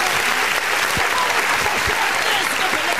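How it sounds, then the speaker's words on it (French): A church congregation at a revival service applauds. Loud, dense, continuous clapping fills the whole stretch, with a few low thumps underneath. "applaudissez, applaudissez"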